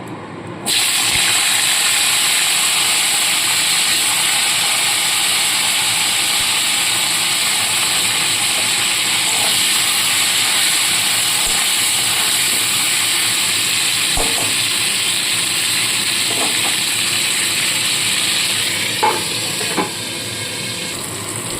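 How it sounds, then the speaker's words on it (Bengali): Cauliflower fries in hot oil left from frying potatoes, making a loud, continuous sizzle and hiss with a few faint clicks and stirring sounds near the end, and no voices. "এবার এই তেলের মধ্যেই কপিগুলোকে ভেজে তুলে রাখবো"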